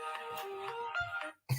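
A mobile phone ringtone plays a steady electronic melody with sustained tones for over a second, stops abruptly, then gives a short burst.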